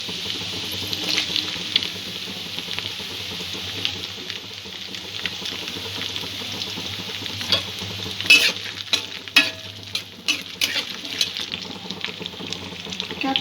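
Chopped ginger, garlic and onion frying over medium heat in a pan for a spicy prawn dish, with a steady low sizzle and occasional scraping and clinking of the spoon as the mix is stirred.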